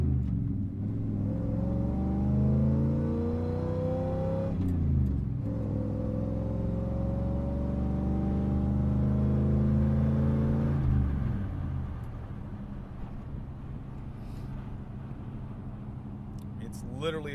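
A 1993 Chevy Suburban engine revs through rising gears, pitch climbing and dropping with each shift, then settling to a quieter rumble with faint clicks.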